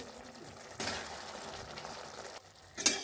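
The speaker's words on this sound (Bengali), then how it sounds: "লো ফ্লেমে ঝোল ফুটবে।" Puti fish curry gravy simmering on a low flame, a soft steady bubbling and sizzle close by, with a brief louder burst near the end.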